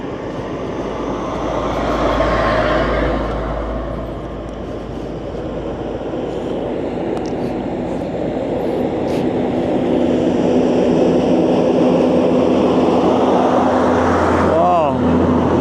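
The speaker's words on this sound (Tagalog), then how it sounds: "May malaking truck." A big truck passes on a highway in northern Luzon, its heavy diesel roar and rumble loud and continuous under road and wind noise inside a moving vehicle. The sound builds toward the end, and people talk faintly throughout.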